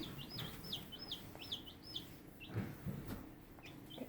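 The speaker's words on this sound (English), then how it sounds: "today we got baby chickens." Baby chicks chirping nearby in a quiet room, a run of high, rising peeps repeated in quick succession, then a few sparser calls amid faint shuffling.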